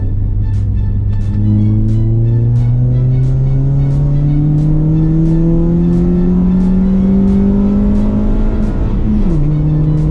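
A modified Baby Type R car with the air conditioning off revs hard from 3000 RPM, its engine note rising steadily and loudly before a quick drop and recovery at a gear change near the end.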